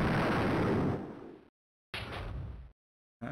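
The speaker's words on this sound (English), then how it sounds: "which I guess is another explosion sound." Explosion sound effect from the Stunt Island video game: a loud noisy blast that fades over about a second, followed by a shorter second burst after a brief silence and the start of a third.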